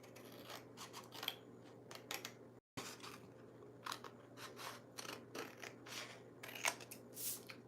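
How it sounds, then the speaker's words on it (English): Scissors snip a pocket shape out of a book page for handmade tags, with a quiet, close series of irregular crisp cuts and paper rustles and one short gap partway through. "I just simply cut out a pocket"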